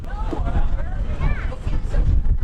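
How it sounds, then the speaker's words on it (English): Wind buffets the microphone on a cruise ship deck in loud low rumbling gusts, with people talking over it. "That was the wind."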